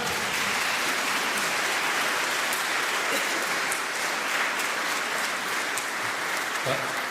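A church congregation at an Icelandic Sunday service applauds its choir, a dense, even wash of many hands clapping that holds steady from start to finish, with no voices over it.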